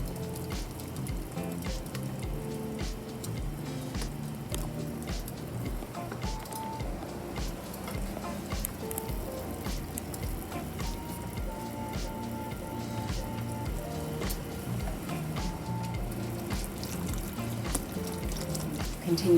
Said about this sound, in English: this will now simmer probably for 30 to 45 minutes